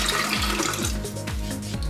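Water pours steadily into a kettle, a continuous splashing stream whose pitch climbs as it fills.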